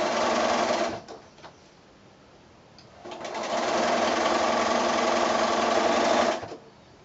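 A sewing machine chain-pieces quilt block squares made from 2 1/2-inch pieces, running in a steady loud whir for about a second, pausing, then stitching again in a longer continuous run before stopping.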